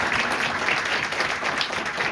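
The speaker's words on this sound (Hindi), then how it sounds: "आप परमेश्वर के लिए जोरदार ताली बजा दो।" A church congregation at a Sunday holy communion service claps loudly, a dense continuous burst of many hands filling the room without any voices over it.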